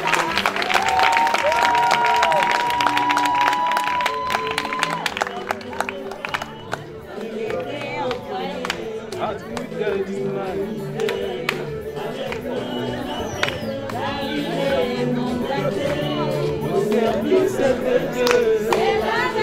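A church congregation applauds and claps for Sister Sarah at an anniversary service, steady loud clapping from many hands with crowd murmur and voices mixed in throughout.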